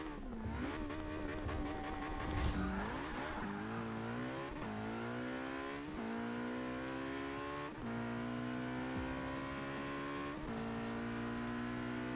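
A McLaren P1 accelerates hard in the Forza 6 racing game. Its engine note climbs steadily in pitch through several gear changes, loud and continuous, with no talking.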